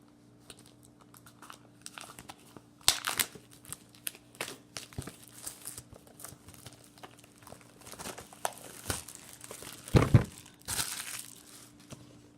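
Childproof Magic the Gathering packaging is pulled and torn open, with irregular crinkling, crackling plastic and paper rustles and a few sharper tearing bursts, close up over a low steady hum.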